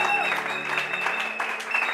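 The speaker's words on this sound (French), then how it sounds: "Nous te recevons par des acclamations prophétiques." Congregation applause and acclamations at a church service, a thick, sustained wash of clapping mixed with crowd voices and sustained tones underneath, steady and fairly loud for the whole short stretch.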